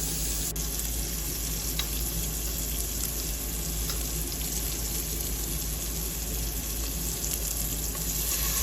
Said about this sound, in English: Now I'm adding my jalapenos to the bottom of the pan.